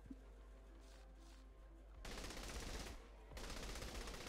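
Rapid gunfire from the Saints Row 3 video game comes in loud, dense bursts that fill the clip, with two sustained volleys broken by a short lull.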